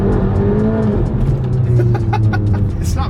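A video game Volkswagen GTI revs hard with a raspy exhaust note, loud and close, engine pitch shifting through gears with a few sharp transient pops and chirps near the end.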